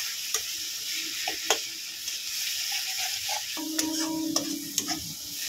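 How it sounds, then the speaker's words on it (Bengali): Spatula stirring a cashew masala for egg korma in a pan on low heat, a soft continuous sizzle with occasional scraping taps, close and unaccompanied by talk. "দিয়ে এটাকে ভালো করে কষিয়ে নেব"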